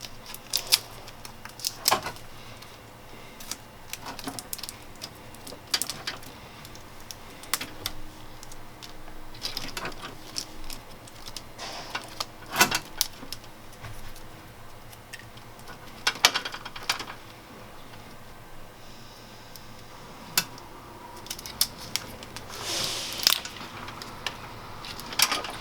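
Electrical tape being cut and peeled back from the wiring harness of a 170 Sprinter van, a string of faint close clicks, snips and crinkling ripples with no talk.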